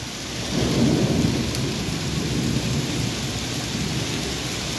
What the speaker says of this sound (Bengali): বৃষ্টির সাথে আকাশেরও খুব গর্জন এবং